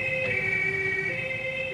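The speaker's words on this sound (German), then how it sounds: "Ein Krankenwagen!" An ambulance siren sounds in a documentary scene about smog. It is a steady, continuous wail heard clearly and alone, with no voices.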